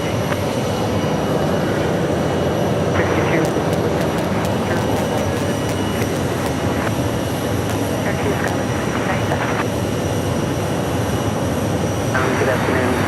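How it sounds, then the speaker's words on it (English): A commercial airliner, an American Airlines jet bound for Orlando, taxis at Phoenix Sky Harbor Airport, giving a steady broadband engine roar that fills the clip with scattered intermittent tones above it. "That's American Airlines Flight 564 making its way on out to Orlando."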